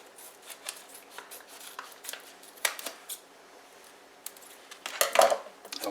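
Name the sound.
cutting open a sealed food storage bag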